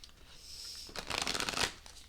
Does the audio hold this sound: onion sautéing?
no